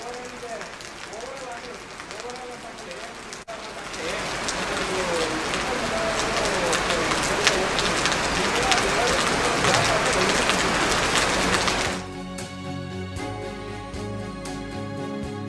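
Rain falling during a landslide rescue operation in Wayanad, Kerala, a dense steady patter of drops that grows heavier after a few seconds and then drops off sharply, with voices talking over it.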